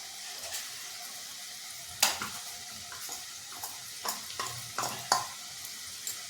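Garam masala and spices being sautéed for masoor dal amti: a soft frying sizzle throughout, punctuated by several sharp spatula scrapes and clinks against the pan, no talking.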